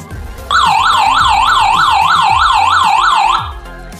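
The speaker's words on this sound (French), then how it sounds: "l'alarme, vous allez voir, c'est assez strident" A shrill SOS alarm from an HRD-900 Hanrongda survival radio wails up and down in fast, regular sweeps for about three seconds, loud and close, then cuts off abruptly.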